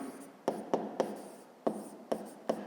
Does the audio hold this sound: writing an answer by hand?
yes